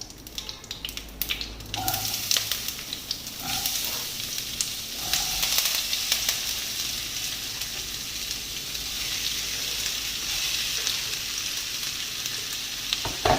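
Chopped potato and onion sizzle and crackle steadily in a hot pan, with occasional scraping as they are stirred; no talking.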